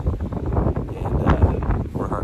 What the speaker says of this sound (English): It is cold. It is very windy.